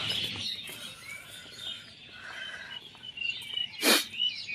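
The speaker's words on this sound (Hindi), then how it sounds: "चिड़ियों की आवाज़।" Small birds chirp and tweet outdoors in cool weather near a meditation centre, several high calls scattered over a quiet background with one louder, sharper call near the end.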